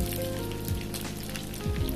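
Steady crackling sizzle of anchovies frying in hot oil, continuous and close, with a low hum and brief tonal sweeps underneath.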